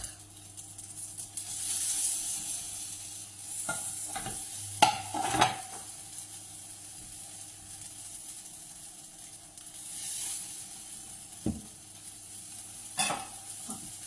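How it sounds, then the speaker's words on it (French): Small poultry patties frying in a hot pan, with a steady soft sizzle and hiss broken by a few clinks and scrapes of a utensil and dish, close and moderately loud, no talking. "les petites galettes sont en train de chauffer"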